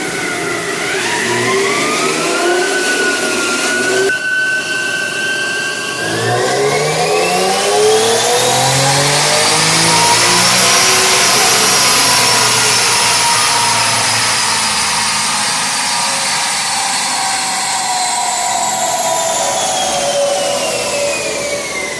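An Infiniti G37 with minimal bolt-ons revs on a dyno, the engine note climbing steadily through a long pull, loud and close, then holding high and easing slightly, with no talk over it.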